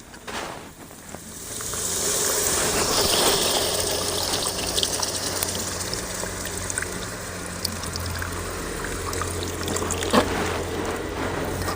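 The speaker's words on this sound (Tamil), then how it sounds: "இன்னும் கொஞ்சம் தண்ணி ஊற்றி நல்ல கரை" Water poured into a tamarind mixture for a spicy small-onion curry, a sustained splashing gush that settles into steady trickling and sloshing, fairly close, with occasional clinks.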